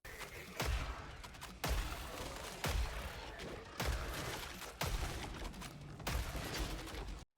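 Gunfire from the video game Killing Floor 3 comes in six loud, evenly spaced bursts, each a sustained rattling volley that cuts off sharply before the next. No one speaks.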